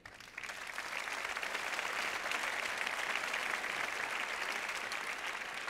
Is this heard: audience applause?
yes